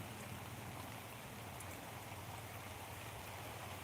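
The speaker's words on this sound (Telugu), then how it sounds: "వర్షం పడుతుంది" Steady rain pours down in a dense, continuous hiss with no pauses, a soft wash of drops over the whole stretch.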